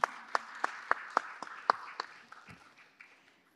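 Sparse applause from a small audience at a talk, a few distinct claps that quickly thin out and fade to quiet within a few seconds.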